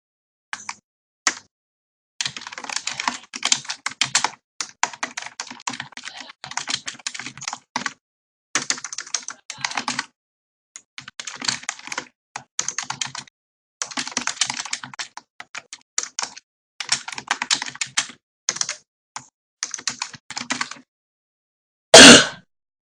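Typing on a computer keyboard while writing a short sentence in a document on Ubuntu: close, crisp keystrokes in quick bursts with short pauses between, ending with one louder, broader clack.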